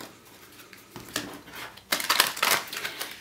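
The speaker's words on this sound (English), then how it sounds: "let's get into the cards and shuffle for Virgo" A deck of tarot cards is shuffled by hand in a few quiet riffling bursts, soft at first and then a louder crackling flurry of cards near the end, with no talking.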